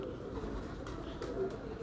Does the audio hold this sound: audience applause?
no